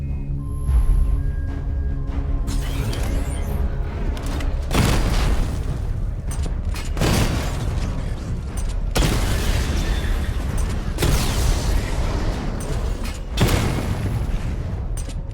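Batmobile cannon and weapons in Batman Arkham Knight blasting targets during a diagnostic test: repeated loud booming shots every couple of seconds, each followed by crackling explosions and debris, over a constant mechanical engine rumble.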